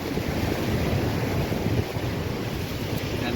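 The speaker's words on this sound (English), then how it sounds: "And the waves are crashing now." Rough sea waves crash onto Chesil Beach in a continuous roaring wash of surf, loud and close, with heavy wind buffeting the microphone throughout.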